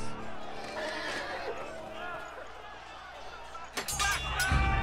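A horse whinnies in a Game of Thrones video game, a drawn-out neigh over game ambience and clopping, followed by a sharper burst of noise near the end.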